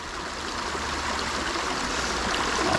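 Stream water flowing steadily along the Appalachian Trail, a continuous close gurgling rush that stays fairly loud and even throughout, with no voices.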